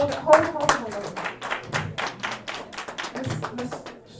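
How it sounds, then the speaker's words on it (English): An audience at an evening heritage awards ceremony claps in scattered, uneven bursts, fairly close, with voices talking over and between the claps. "can we please give them another round of applause?"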